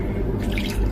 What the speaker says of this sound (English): I'll just add it a little bit by bit.